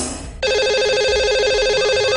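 A telephone rings steadily on an outgoing call placed to a caller on a live radio show, the warbling electronic ring starting abruptly after a brief burst of noise.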